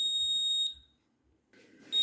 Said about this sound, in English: Whenever the buzzer and LED both turns on, it indicates that it is raining outside.